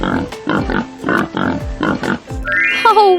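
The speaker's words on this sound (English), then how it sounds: "It's a pig! That's the piggy sound. Oink, oink." A pig on a farm grunts and oinks close up in a rhythmic series of about eight short, loud snorts, followed by a brief higher squeal at the end.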